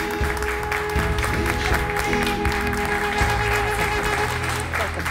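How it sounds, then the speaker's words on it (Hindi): A studio audience claps steadily throughout, with music or a tonal hum running underneath the applause. "तालियों के साथ उनका स्वागत कीजिए।"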